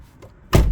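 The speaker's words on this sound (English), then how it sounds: "opened the door," A Saturn car door opens with a single close thunk and clunk of the latch releasing, preceded by a faint click, loud and short with no speech.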